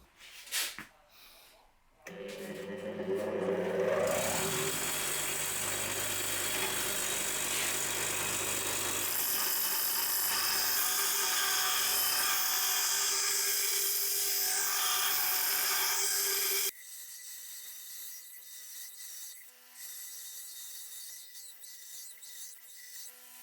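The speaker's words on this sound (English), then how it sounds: "I probably have to use grinder to grind off here a little bit" Power grinder grinding down the steel tang of a Japanese kitchen knife while fitting a custom hardwood wa handle: a loud, sustained high-pitched whine and rasp running for about fifteen seconds, then a quieter steady hum as it stops.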